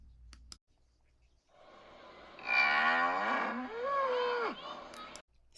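Cow mooing for a children's story read-aloud: one long, loud, drawn-out moo with a rising and falling tone, standing alone after a brief quiet moment.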